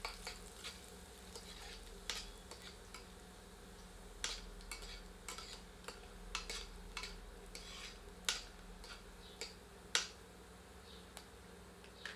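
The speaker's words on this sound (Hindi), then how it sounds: "अब कटी हुई सामग्री में से सर्वप्रथम लहसुन सम्मिलित करके इसे भूनकर सुनहरा" Garlic fries in a pan for chana dal, giving a soft, continuous sizzle broken by scattered scraping stirs and clicks from the spoon. No one speaks.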